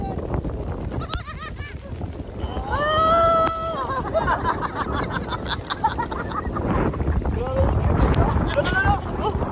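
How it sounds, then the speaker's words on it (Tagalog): Strong sea waves slap a small boat in open water during rain, with wind buffeting the microphone and a constant rough wash throughout, while people shout and talk excitedly over it. "Malakas yung alon niya."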